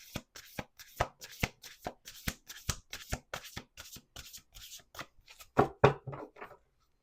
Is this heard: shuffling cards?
yes